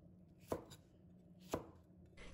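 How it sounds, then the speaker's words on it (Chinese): Two crisp knife chops land on a cutting board about a second apart as snow peas are cut into diamond-shaped pieces, close and clear over a faint background hum, with no voices. "然后改刀切成条，再改刀切成菱形块。"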